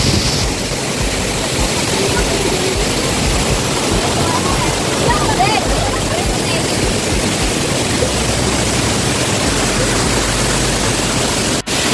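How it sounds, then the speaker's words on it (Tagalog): Mimbalot Falls in Buruun, Iligan City, pours in a loud, continuous roar of rushing water that stays steady throughout, close and constant. "Yung agos ng tubig na papunta doon."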